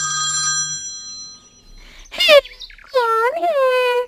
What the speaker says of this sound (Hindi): वो बिना कुछ बोले टीटू को फोन लगाती है।